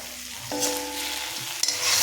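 Potatoes with spices and green chilli are stirred in a pan, a soft continuous sizzle under light scraping, with a short sharp clink near the end.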